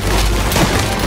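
Tommy gun fire in Mafia Definitive Edition, a dense rattling burst of loud automatic shots with booming low end, continuous across a brief moment.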